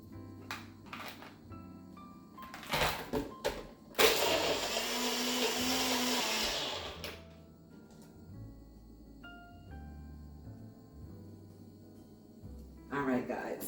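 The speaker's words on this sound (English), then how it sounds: "bring over the blender and mix" A kitchen blender whirs loudly for about three seconds as it mixes strawberries and ice, amid clattering and handling noises and brief talk before and after.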